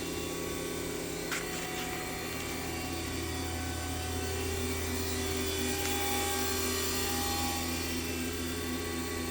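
A 2006 Haas VM3 CNC mill spindle spins at 5,000 RPM, a steady, even machine whine with a constant hum underneath, unbroken and at a moderate level throughout.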